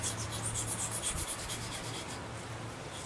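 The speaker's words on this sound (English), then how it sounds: "if you have just a little blade, you sharpen it very quickly" Small knife blade drawn across a medium grit whetstone, producing a steady close scraping rub with even back-and-forth strokes and no talk.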